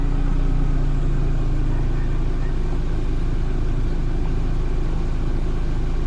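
A 2002 Volkswagen Beetle with a 2.0 engine, suffering overheating and no air conditioning, idles with a steady low rumble and rhythmic pulsing, close and continuous without a break.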